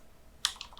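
A few quick key presses on a computer keyboard typing a command at a Windows command prompt, crisp close clicks in a short burst after a brief quiet moment.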